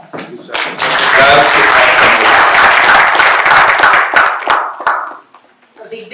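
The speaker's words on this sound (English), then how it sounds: "A big round of applause for Sriram sir and Dr. Virendra sir." A conference audience breaks into loud applause, dense clapping building quickly, holding strong for several seconds and then tapering off, with a few voices at the edges.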